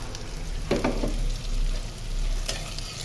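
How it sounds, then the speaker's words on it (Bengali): Green chillies and chopped onion fry in oil in a kadai with a steady, moderate sizzle. A few brief scraping stirs stand out, and there is no talking. "কড়াইতে দিয়ে দিচ্ছি একটু তেল, কাঁচামরিচ ফালি আর পেঁয়াজ কুচি।"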